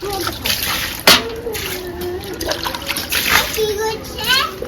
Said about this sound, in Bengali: চলো পা ধুয়ে দিই